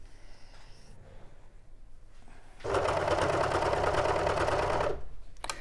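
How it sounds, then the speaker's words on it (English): Overlocker stitching fabric: after a quiet pause the machine starts up and runs in one loud, steady, fast whirr for just over two seconds, then stops abruptly. "don't put your foot straight down on the pedal of the overlocker"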